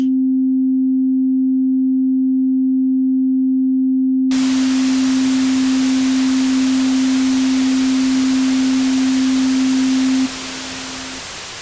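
A pure, steady sine tone from a Bazille synthesizer hums loudly, joined by a burst of white noise hiss partway through, then drops in level near the end as equalizers filter it out.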